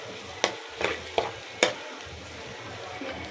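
Potatoes, onions and spices frying in a pan for besan aloo pyaz sabzi, with a soft steady sizzle under a few distinct scraping stirs of a spoon, close and fairly quiet, no talking.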